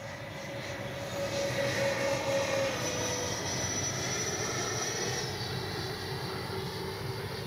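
A large Freewing MiG-29 Fulcrum radio-controlled jet with gear down passes by on a landing approach, its electric ducted-fan whine swelling to a peak and then easing off as it moves away, over a steady outdoor background and no voices.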